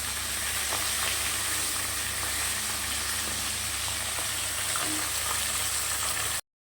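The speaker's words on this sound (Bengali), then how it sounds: "চলো মাছগুলো একটু ভেজে নিই" Fish frying crisp in hot oil in a kadai, a continuous close sizzle with small crackles and pops that holds steady before cutting off abruptly.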